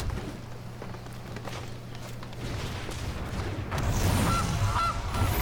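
A goose honks a few times near the end, loud and close, over a steady low hum of game background noise in MTG Arena when the Gilded Goose card is played.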